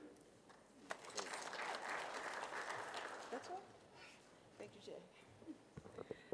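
Faint round of audience applause at a panel event on partnerships for vocational training, building to a brief dense burst and then thinning into scattered claps, with speech around it.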